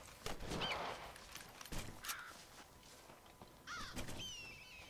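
Bird calls ring out in the Red Dead Redemption video game, with several harsh, quavering cries from an eagle spaced across a quiet forest scene, fairly faint and set against soft ambient noise and light thumps.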